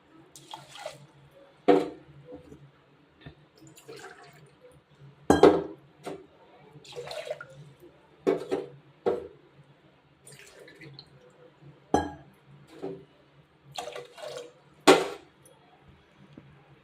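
Water is measured and poured for pongal in a home kitchen, coming as a series of separate splashes and trickles into a vessel, with quiet pauses between pours and faint clinks of utensils.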